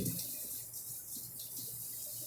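Water from a tap runs steadily into a sink, a soft hiss with faint splashing, quiet and close, with no talking.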